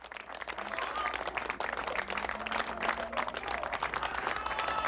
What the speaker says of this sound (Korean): 자민당 당사 앞에는 이미 나와 기다리고 있던 국회의원들이 박수로 이들을 맞이했다.